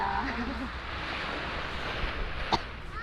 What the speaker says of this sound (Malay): dengarlah bunyi ombak. Saja bunyinya macam berirama